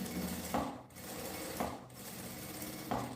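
Short bursts of a sewing machine running, stitching a second seam on a lining while making a luxury toiletry bag, close and steady with brief pauses between runs and no talking.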